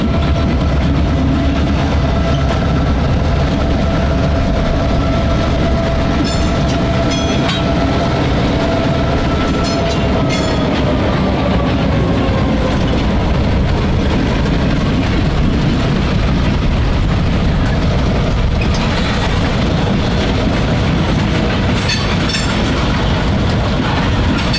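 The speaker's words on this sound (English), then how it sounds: "We caught the two locomotives with their rather short train at Jackson Station." A pair of GP38-2 diesel locomotives hauls short freight train B34 through Jackson Station, a loud continuous engine roar and rumble with a steady rising horn tone and rail clatter throughout.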